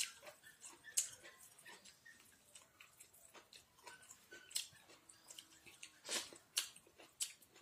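Someone eats rice with spicy minced mutton curry, giving soft, close chewing and wet mouth clicks in an irregular rhythm, quiet against a silent background.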